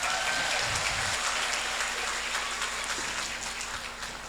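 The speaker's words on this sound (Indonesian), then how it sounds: "tepuk tangan untuk beliau nih" An audience at a Pejuang Subuh gathering in Tembilahan breaks into applause for an official, a continuous mass of clapping that tapers slightly at the close.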